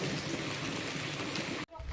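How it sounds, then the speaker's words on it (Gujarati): Steady rain pouring down in a Gujarat village, a dense loud hiss of falling water that cuts off abruptly near the end. "આપણા મોહબ્બતપરામાં તો અટાણે વરહે છે"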